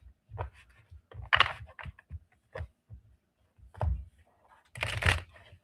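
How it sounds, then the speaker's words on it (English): Tarot cards being shuffled by hand, a run of brisk papery riffles and soft slaps in uneven bursts, close and moderately loud, with short pauses between. "I'm sorry, I was shuffling."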